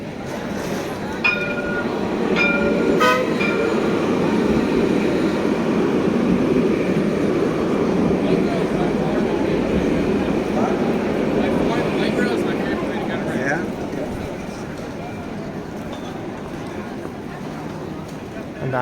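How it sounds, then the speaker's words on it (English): A tram rolls along a busy Jerusalem street, a steady broad rumble and hiss of rail traffic lasting throughout, with faint street sounds and a brief metallic ring early on. "The tram is passing by,"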